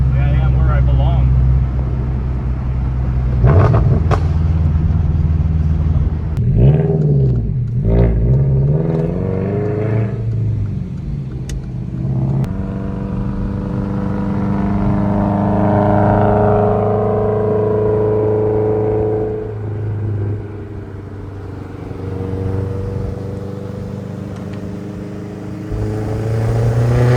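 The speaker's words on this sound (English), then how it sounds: "I'm actually driving this car again." A Toyota GR86 with a built engine is driven from inside the cabin, its engine humming low and rising through revs with gear changes and a long accelerating pull, while people talk over it at times.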